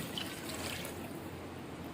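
Soft, steady pouring of about two glasses of water into roughly a kilogram of mutton for Lahori butt karahi, a faint continuous trickle and splash heard close up.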